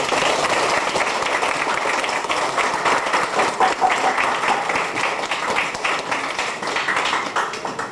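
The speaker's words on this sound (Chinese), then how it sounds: "鼓掌。" An audience at a concert in a bookstore claps steadily for several seconds, a dense, fairly close wash of applause with no talking.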